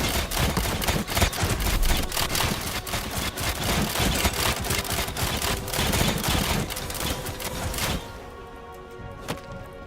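Summoned turrets in the action game The Slormancer fire in a dense, rapid clatter of overlapping shots for about eight seconds, then the barrage drops off and leaves a quieter, tonal background.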